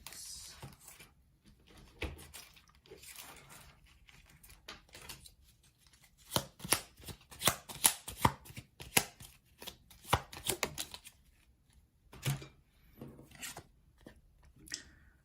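Tarot cards being shuffled by hand, a run of crisp riffling and tapping bursts that grows busier midway, close and fairly quiet with no talking.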